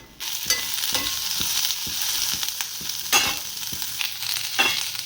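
Whole spices such as cinnamon and cloves fry in about two spoons of oil for a sprouted horse gram curry base, a steady close sizzle broken by regular stirring scrapes, with no talk.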